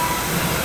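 A loud, steady broadband hiss of ride machinery at Star Wars: Galaxy's Edge, from the pod racer attraction at closing, fills the space, constant and close, with no talking.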